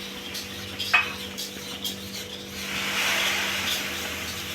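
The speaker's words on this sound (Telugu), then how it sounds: "పోస్తా అంటే ఆయిల్ ఇట్లా పొంగుతుంది" Hot ghee and oil hiss and bubble as they are poured into a Mysore pak mixture, with a sharp scrape of a utensil and a sizzling froth that builds and holds toward the end.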